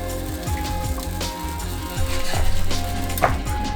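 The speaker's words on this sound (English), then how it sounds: "Hear the sizzle." High-protein pancake batter sizzles on a hot pan at the first pour, giving a steady close hiss and crackle with a low background hum and a few small clinks, and no talking.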